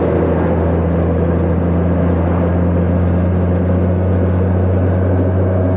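A Honda motorcycle engine drones steadily and loudly while riding at speed, running warm with a poor cooling system, mixed with constant rushing wind noise and no talk.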